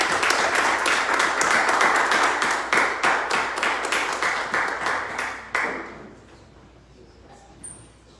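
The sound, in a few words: applause in church service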